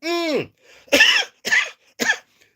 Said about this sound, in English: There could be some coughing and spluttering.